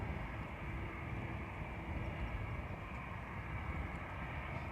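An ATR turboprop airliner departing Dublin Airport for Donegal, heard as a steady, distant broadband engine roar with a faint droning tone, fairly quiet and continuous throughout, with no talking.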